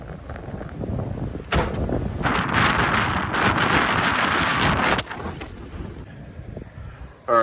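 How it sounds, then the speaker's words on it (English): Strong gusty wind buffets the microphone outside a camper van beside a lake in Kentucky, a loud continuous roar swelling and dropping, with a sharp gust burst near the end and no speech. "I think we're just gonna kind of hang in the van since it's so windy outside"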